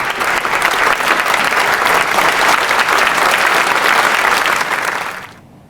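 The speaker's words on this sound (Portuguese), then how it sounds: "os representantes do parlamento britânico aplaudiram Zelensky de pé." Members of the British Parliament give Zelensky a standing ovation, a dense, loud, sustained roar of clapping that carries on evenly and then fades away at the very end.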